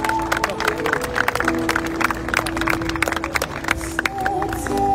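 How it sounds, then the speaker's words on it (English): Crowd applauding at the Salon Prive concours awards for rare and valuable cars, steady clapping mixed with voices, music and crowd noise. "Big round of applause,"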